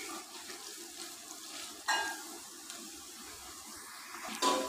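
Bitter gourd pakoda fries in hot oil, a soft continuous sizzle with a couple of brief louder bursts as pieces are stirred or moved, close and without talking.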